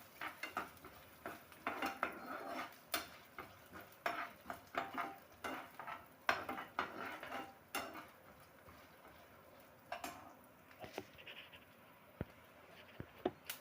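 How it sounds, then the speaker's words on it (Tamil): Black pepper and cumin being dry-roasted in a pan, with repeated close scraping and clinking of a spatula against metal, faint sizzle underneath, irregular stirring strokes and no speech. "இது முதல்ல நல்லா வறுத்து விட்டுக்கலாம் பொன்னிறமா"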